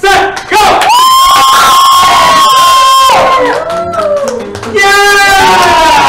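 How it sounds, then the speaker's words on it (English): An audience at a live gameshow cheers, shouts and whoops loudly and continuously, high excited voices rising and falling in waves close to the microphone. "Cheer them on, everyone."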